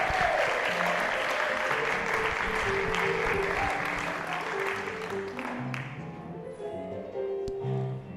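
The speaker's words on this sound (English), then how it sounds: "Big round of applause for a funny man." A comedy club audience applauds a comedian, a dense, steady wash of clapping that gradually fades, with music playing underneath.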